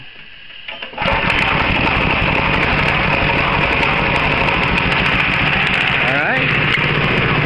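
A small go-kart engine fires up about a second in and settles into a loud, steady buzzing idle that holds to the end, with a brief throttle blip near the close and a voice speaking once at the start.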